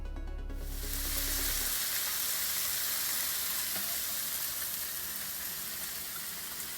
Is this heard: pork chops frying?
yes